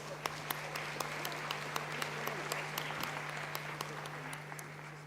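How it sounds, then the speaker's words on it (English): A crowd claps through a round of applause at a signing ceremony, a dense and steady patter of many hands with a few sharper claps standing out, heard from a distance over a constant low electrical hum. "a round of applause."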